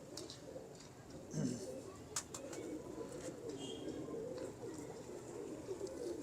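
Pigeons, a bred pair kept in a loft, coo softly and intermittently at a distance, with some faint chirps and background noise, no clear talk over them.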